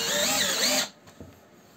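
A TopShak TS-ED1 cordless drill drives screws with a loud, close whine for almost a second, then cuts off, leaving a couple of faint clicks and handling noise.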